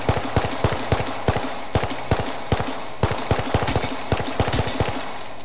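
Rapid gunfire in the video game H1Z1 comes as a steady rattle of sharp, closely spaced shots, loud and unbroken for several seconds with no talking.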